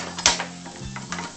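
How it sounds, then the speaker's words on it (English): Soft crackling sizzle with a few light clicks and taps as a sirloin tip roast fries in a pan, steady and close with no voices. "I can hear it sizzling."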